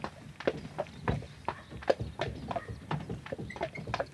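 Horse hooves clip-clopping at a steady walk while pulling a carriage cart for a ride, with even, fairly faint thuds and light rattling in between.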